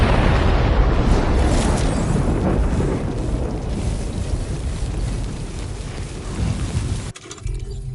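Weapons firing and explosions in the game Death Stranding 2, a sustained roaring barrage of blasts and bursts that fades slightly before cutting off abruptly near the end into quieter background noise.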